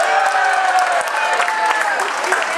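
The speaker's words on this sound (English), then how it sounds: "The guys got a longer applause," Contest audience at a bartending competition aboard the Star Princess cruise ship claps and cheers in a dense, steady burst with voices mixed in, loud and close throughout.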